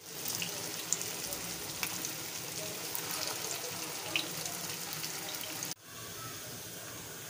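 Potato koftas frying in hot oil for aloo kofta curry give a steady, dense sizzle that runs without pause, then drops sharply and resumes at a slightly lower level near the end.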